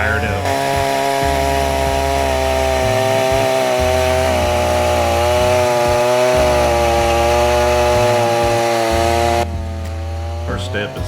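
A chainsaw with a freshly tightened chain cuts into an old tree stump, roaring loud and continuous with shifting engine pitch until it drops off near the end; a voice speaks briefly.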